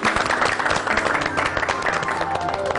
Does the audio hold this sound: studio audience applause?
yes